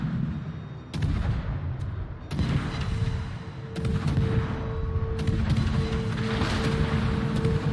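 Naval gunfire in World of Warships, a series of heavy booming salvos from a Friesland-class destroyer battle, loud blasts recurring every second or so over a continuous rumble of engine and sea noise.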